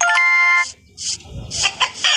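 A chicken in a video game gives a few short, bright electronic clucks and squawks in bursts, separated by brief quiet gaps and low rumbling game noise, with no one talking.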